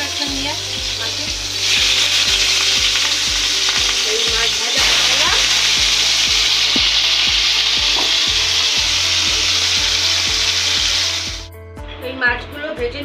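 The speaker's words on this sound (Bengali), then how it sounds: "মাছগুলো ভেজে নিলাম।" Fish sizzling and frying in a pan, a loud continuous hiss with scraping and stirring, accompanied by rhythmic low thumps and ending abruptly into quieter clatter.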